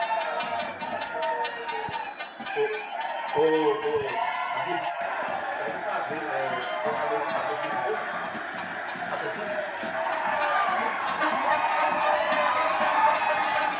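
Football supporters packed into a stadium for a Guarani versus Lagoa Grande match roar and chant in a dense, continuous wall of crowd noise, with some voices standing out close by.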